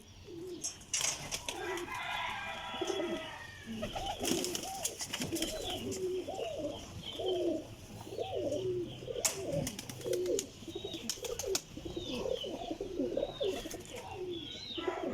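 Sialkoti pigeons, including a pure black-faced bird, coo repeatedly in soft, low, rolling calls, several birds overlapping, with occasional sharp knocks and wing flutters nearby.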